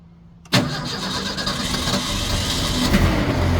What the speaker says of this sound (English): Oh, I was right. It does run good. Oh, it's running with 6 cylinders at least.